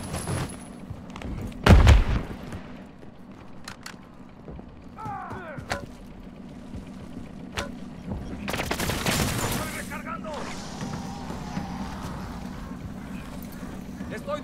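Gunfire in DMZ Zombies comes in a sharp heavy burst early on, then a longer rattling volley later, set against a low rumbling background with voices calling out in between.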